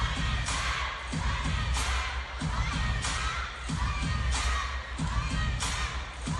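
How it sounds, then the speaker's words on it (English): Crowd at a women's singles table tennis final, loud rhythmic chanting and cheering from a large arena audience rising and falling in regular waves, with thumping beats under the voices. "You can hear the crowd."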